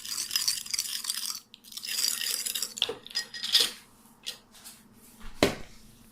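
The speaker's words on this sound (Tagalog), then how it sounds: "Mix them all together until the sugar is well dissolved." Soy sauce, sugar and a tablespoon of cooking oil stirred together in a bowl for a chicken marinade, with intermittent clinks and scrapes of a utensil against the dish, irregular bursts between brief quiet gaps, no talking.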